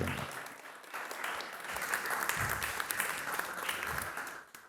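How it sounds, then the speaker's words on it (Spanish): Enthusiastic audience applause at a public conversation and storytelling event, a dense, steady burst of many hands clapping that holds for several seconds before cutting off abruptly. "Un aplauso, por favor, para Lucía Mela"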